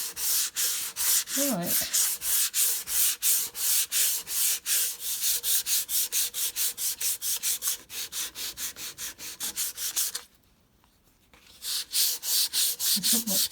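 Worn 120-grit sandpaper rubs back and forth across a wooden coffee table in steady, rhythmic close strokes, pausing briefly near the end before resuming; a voice speaks a single word.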